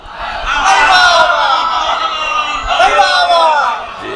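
A crowd gathered at a Majlis-e-Aza for Imam Hussain shouts religious slogans in unison, two loud, close surges of many voices rising and falling, with scattered individual calls in between.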